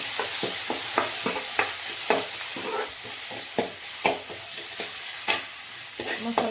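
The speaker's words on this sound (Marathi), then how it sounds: "मसाला टोमॅटो चांगला परतून घेणार आहे" Masala and tomato frying in a pan while being stirred vigorously, loud repeated spatula scrapes and clacks in an irregular rhythm over a constant bright sizzle, close by.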